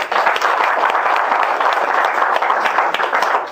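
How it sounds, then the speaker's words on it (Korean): Sustained applause fills a large assembly hall during a founding general meeting, many hands clapping densely and evenly at close range, loud and unbroken throughout. "사무국장한테 박수입니다."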